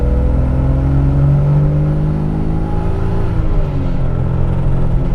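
A twincharged 1JZ inline-six in a Toyota Soarer pulls hard at full throttle from around 4,000 rpm, a loud, dense cabin roar with a steadily rising engine note and constant heavy rumble.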